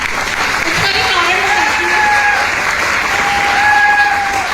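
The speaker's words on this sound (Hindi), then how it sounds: "उनके लिए एक जोरदार तालियां" An audience claps at a business talk, with steady, dense applause running the whole time. A voice speaks over the clapping.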